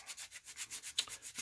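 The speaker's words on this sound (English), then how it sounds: "these are squadron sanding sticks" Squadron sanding sticks rub rhythmically over a part while a 1997 Hasbro AT-AT Missile Launcher toy is repaired, giving close, quiet, evenly paced rasping strokes with no voices.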